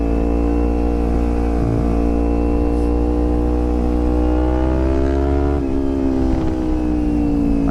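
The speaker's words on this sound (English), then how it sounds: "Look, wide open throttle, I increased my mile per hour maybe 4." A 2011 Kawasaki Ninja 250 at wide open throttle, its engine holding a loud, steady drone with a slight pitch climb and a brief shift-like dip, heard up close from the rider's position.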